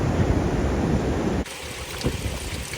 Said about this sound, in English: Breaking surf, river running out to the sea.